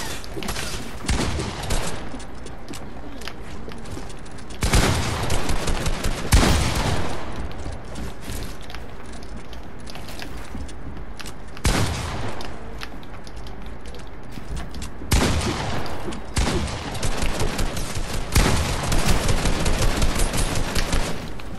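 Fortnite gunfire crackles in loud, repeated bursts, with heavy volleys around the five, twelve and fifteen to twenty second marks and lighter scattered shots between them.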